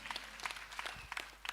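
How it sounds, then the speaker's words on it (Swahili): A church congregation claps during a Sunday service, a faint, distant patter of scattered hands with irregular bursts, heard without any talking. "Tupigie Mungu wetu makofi."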